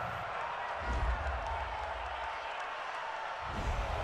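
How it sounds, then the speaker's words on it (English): NFL stadium crowd during a Cleveland Browns versus Baltimore Ravens game reacting to a penalty call, a broad sustained roar of boos and noise swelling twice, heard from a distance. "Well, this crowd does not like that call."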